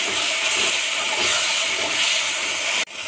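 Pointed gourd frying in oil with a spice paste, a loud steady sizzling hiss that runs throughout and cuts off abruptly near the end, with no speech.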